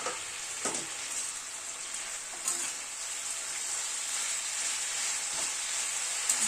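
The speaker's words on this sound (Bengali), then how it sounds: "সবজিগুলোকে এবার একটুখানি ভেজে নেব।" Winter vegetables with salt and turmeric fry in an uncovered pan for khichdi, producing an even, quiet hiss of sizzling with a few faint knocks of the utensil and no speech.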